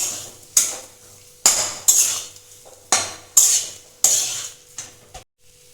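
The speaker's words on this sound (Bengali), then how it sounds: "এবার আমি খুব ভালো করে নেড়ে নেবো" A spoon scrapes and clatters against a pan as mashed potato patty filling with sugar and tomato is stirred, giving a series of sharp metallic strokes in an uneven rhythm, close and fairly loud.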